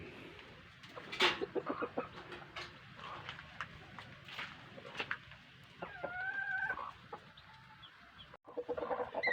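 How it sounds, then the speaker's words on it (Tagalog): A Rhode Island Red hen clucks in short irregular calls close by, with scattered rustling and other farmyard noises around her and a few higher squawks mixed in. "Ito po siya oh. Rhode Island Red po yan."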